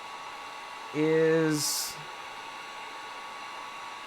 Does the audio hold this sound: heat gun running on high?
yes